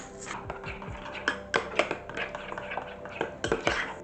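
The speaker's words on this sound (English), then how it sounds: "And that's going to start with ricotta cheese, lemon juice, and dill. And I'm going to mix that together." Ricotta cheese, lemon juice and dill stirred together in a bowl, with a handful of close, irregular clinks and scrapes of a utensil against the dish, some in quick clusters, and no talking.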